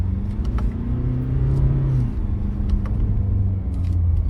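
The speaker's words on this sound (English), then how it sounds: "You just bang the paddle shifters to 10th gear and go flat out." A Ford Ranger Raptor pickup accelerates flat out nearby, its roar climbing in pitch through several paddle-shifted gear changes with a steady rumbling undertone.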